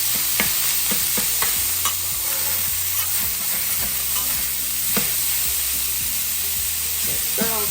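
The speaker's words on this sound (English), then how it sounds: "Or you can use a spoon or a fork in the skillet to you know, mix it up." Ground beef stirred with a spatula in a skillet while it sizzles, a constant bright frying hiss with repeated scraping and knocking strokes against the pan.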